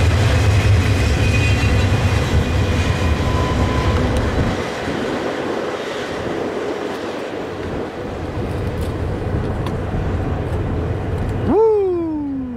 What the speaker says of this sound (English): Westbound intermodal at Southport.